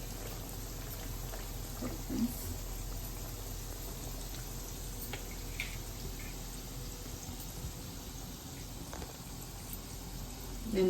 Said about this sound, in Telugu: అందుకని స్లోగా సిమ్లో పెట్టుకొని సిమ్లో వేయించుకోవాలి ఫ్రెండ్స్.